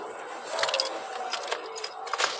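Ignition keys jangle and click as a 2007 SpaceFox 1.6 is switched off, metallic rattles coming in several close, uneven bursts over faint background noise.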